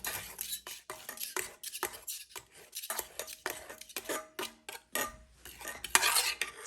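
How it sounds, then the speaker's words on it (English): Cooked fruit for chia jam is chopped in a pot with a utensil, giving irregular close clacks and scrapes against metal with brief pauses between strokes. "I'm just going to go ahead and chop them now"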